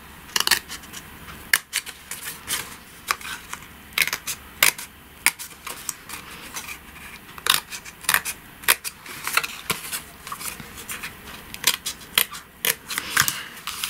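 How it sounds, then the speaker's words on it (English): Scissors snipping into the corners of material while reworking a picture frame, a sequence of sharp, close, separate cuts coming irregularly with short pauses between and handling rustle in the gaps. "what I'm going to do here is snip to the corners"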